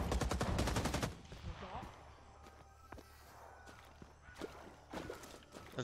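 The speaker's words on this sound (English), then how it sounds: "Enemies firing at us" Enemy gunfire in Rising Storm 2 opens with a loud, rapid automatic burst, followed by scattered distant shots and footsteps, with voices in the background.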